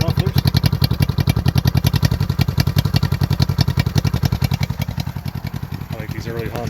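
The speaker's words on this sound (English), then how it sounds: "These early Honda Twins have a nice throaty sound to them." A 1971 Honda CB350 twin motorcycle idles steadily through its mufflers, a close, loud, throaty rhythmic pulsing that holds even throughout, with a faint brief blip near the end.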